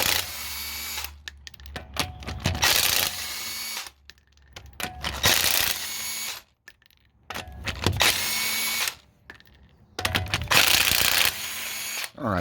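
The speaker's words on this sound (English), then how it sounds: "We're going to go ahead and get the wheel off." A power tool, likely an impact wrench, removes the front wheel lug nuts of a raised 2012 Chevy Colorado. It gives four loud, rattling bursts separated by short quiet pauses, with no talking.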